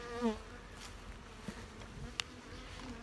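Honey bees buzz briefly and close at the start near beehives being moved into nucs, then fade to a quiet outdoor background with a few faint ticks.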